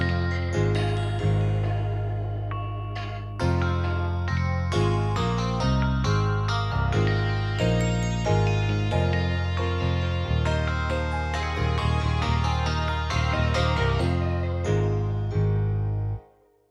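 A psychedelic guitar sample layered with glockenspiel plays, bright chiming tinkles over warm, effect-laden guitar chords with chorus and echo, steady and melodic for about sixteen seconds before cutting off abruptly.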